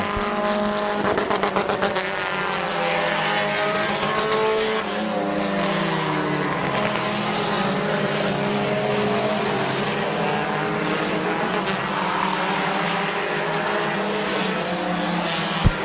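Race cars come off turn four to finish a heat race at Midvale Speedway, engines roaring loud and continuous with shifting pitch, tire noise and cars sweeping past up close.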